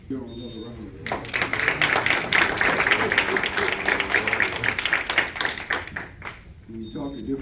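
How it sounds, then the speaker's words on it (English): Crowd applause at a VFW Post Veterans Day program, a dense burst of clapping swelling up after a brief spoken moment and fading about six seconds later, with talk faintly before and after. "Give them another round of applause."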